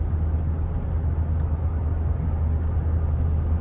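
Cabin of a second-generation 2018 Toyota Tundra SR5 on the move, a steady low engine and road rumble with constant broadband noise and no talk.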